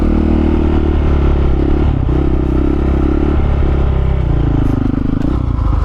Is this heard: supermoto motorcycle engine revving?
yes